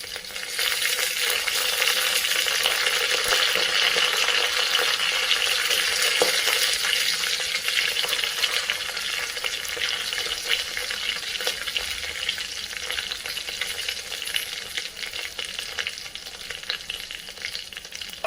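Curry leaves, cashew pieces and spices fry in hot oil in a pan for tomato rice, a bright, hissing sizzle that stays loud and even for the whole stretch, easing slightly toward the end.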